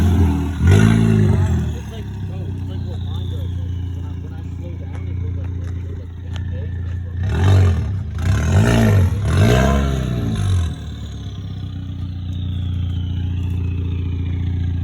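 A VW MK7 Jetta with its muffler deleted revs loudly nearby, its engine note swelling and falling in one burst, then in several quick revs, over a steady idle rumble with some muffled voices.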